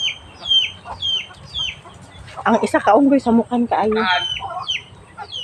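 Backyard chickens cluck and squawk close by in a lively, irregular chorus, with a short burst of louder clucking partway through and a person speaking over them.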